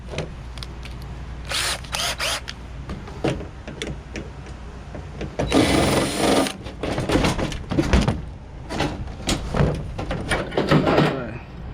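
A power drill whines in repeated short bursts while a tankless water heater is taken apart for scrap, with a longer bit fitted, and metallic clatter and handling noise between the runs.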